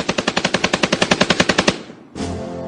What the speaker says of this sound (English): Browning, within 3 months, came up with what became known as a Browning automatic rifle.